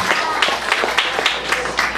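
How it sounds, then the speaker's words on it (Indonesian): Crowd applause at a political gathering of the Batak community supporting legislative candidates, a dense, steady clatter of many hands clapping, fairly close and continuous, with a low hum beneath. "Mari kita beri aplaus orang Batak di seluruh Indonesia"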